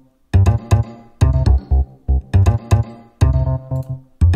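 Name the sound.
bass gated rhythmically with noise gate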